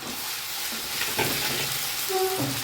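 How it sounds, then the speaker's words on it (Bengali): Cumin paste dropped into a hot pan for a vegetarian jackfruit and paneer dish, giving a loud steady sizzle and frying hiss with light stirring scrapes, no voices. "আমি এবার জিরে বাটাটা দিয়ে দেবো"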